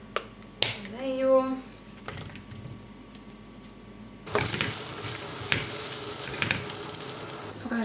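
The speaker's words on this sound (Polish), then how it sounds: "zaraz właśnie podsmażę brokuły" Broccoli hitting hot oil in a pan: a brief tonal squeal and knocks first, then a sudden loud, steady sizzle of frying that holds to the end with scattered crackles and pops.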